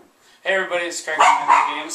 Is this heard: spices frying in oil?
no